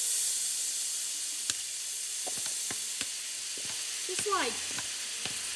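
Soy sauce hisses faintly in a hot pan of chicken for honey glazed sriracha chicken, a steady low sizzle broken by a few utensil clicks and scrapes, with a short bit of talk.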